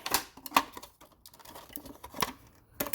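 A few crisp snips of scissors cutting pepper seedlings during transplanting, spaced irregularly, close by and fairly quiet.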